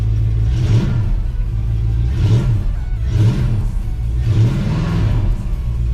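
A classic muscle car engine idling and then revved in four distinct blips, each rising and falling, over a continuous low idle rumble.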